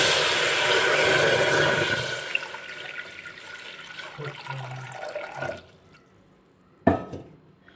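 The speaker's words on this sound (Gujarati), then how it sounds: "કુકરની અંદર હું ત્રણ કપ જેટલું પાણી એડ કરીશ" Water pours into a pressure cooker heating on a stove, a loud rushing stream that tapers off, followed by a couple of faint clinks and a final brief splash.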